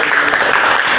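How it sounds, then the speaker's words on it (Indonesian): Brief burst of classroom applause for three students who asked questions in a biology lesson, a dense, loud patter of clapping that stays even and close throughout. "Tepuk tangan untuk ketiga penanya kita tadi."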